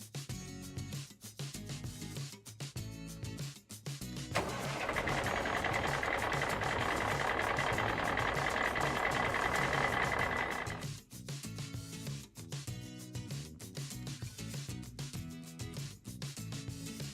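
A steady, rumbling engine effect for a LEGO DUPLO 10813 toy dump truck swells in for several seconds over rhythmic background music, then drops away.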